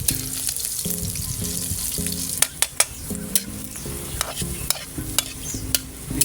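Ginger sizzling and frying in cooking oil for adobo, stirred through steady crackling with sharp utensil clicks and scrapes against the pan, close and continuous.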